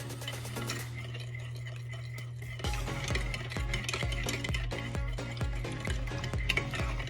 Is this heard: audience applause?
no